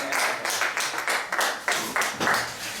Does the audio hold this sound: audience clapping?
yes